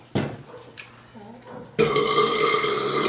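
A loud, drawn-out burp after drinking Coke, rising abruptly near the end of a short stretch of quieter mouth sounds and chatter.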